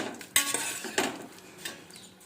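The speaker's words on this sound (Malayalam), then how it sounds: "അതിനുശേഷം ഒന്ന് ഇളക്കി കൊടുക്കാം." Onion, ginger and green chilli stirred in a pressure cooker, a few close metallic scrapes and clinks of a spoon against the pot over a soft background hiss, no talking.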